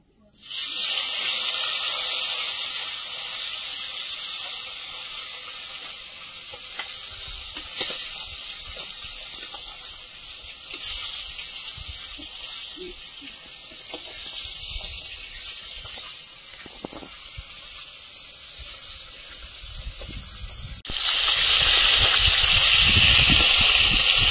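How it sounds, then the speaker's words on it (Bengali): Nile tilapia pieces rubbed with salt and turmeric fry in hot oil in a wok, giving a steady loud hiss that runs without a break and grows louder near the end. "মাছগুলো ভেজে নেব।"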